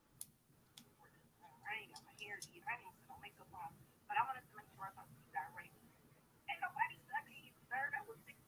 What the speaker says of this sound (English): What are you listening to your voicemails, bro?